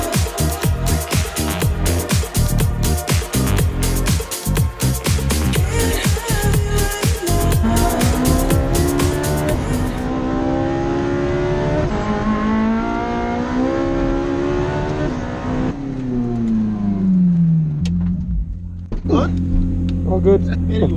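A Ferrari 458 drives laps on a race track, its engine loud and close as it revs hard, shifts up through the gears, then winds down and revs again.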